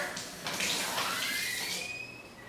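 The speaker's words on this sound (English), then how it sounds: "So I'm going to fill my test tube with water." Tap water pours into a small test tube, a close, steady splashing stream whose pitch rises as the tube fills, with no talking.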